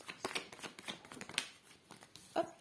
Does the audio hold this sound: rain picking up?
no